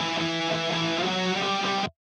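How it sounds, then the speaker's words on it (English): Distorted punk rock electric guitar through a pedal and amp simulation with no echo, a dense, steady strummed wash that cuts off abruptly, dry and up front with no voices. "now let's hear the sound with just the pedal and the amp sim."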